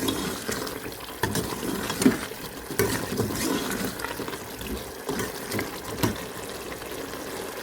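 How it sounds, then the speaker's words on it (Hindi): Potatoes and eggs fry in a pan for an egg and potato curry, giving a steady crackling sizzle with repeated scraping stirs of a utensil, close and continuous. "थोड़ा सा हम इसको फ्राई करके"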